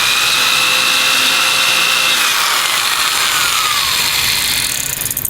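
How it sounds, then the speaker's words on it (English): A power drill countersinks screw or eye-loop holes in wood for joining bait, a loud, steady high-pitched whine with a slowly falling tone, close and continuous with no talk. "That's to countersink the screws or the eye loops"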